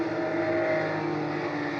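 GT race car at Monza during qualifying, a steady loud engine drone held throughout with no clear pitch rise, a continuous mid-distance roar.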